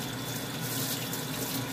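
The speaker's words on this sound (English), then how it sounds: "Now I gotta wash my hands." Water running steadily from a tap into a sink while sticky hands are washed, a continuous close splashing hiss with no talk.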